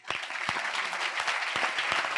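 An audience applauds at a Gujarati spiritual talk, a dense burst of many hands clapping that carries on steadily at close range with no speech.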